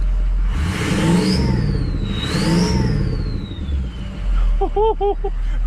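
A loud turbocharged pickup truck engine with a KC Turbos turbo and stock exhaust revs up and down in two long surges, followed by a few sharp chirping whistles near the end.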